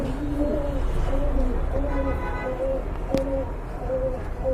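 A pair of pigeons cooing, soft repeated hooting coos in a steady rhythm, close and moderately quiet over faint background noise.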